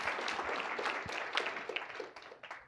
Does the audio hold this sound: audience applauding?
yes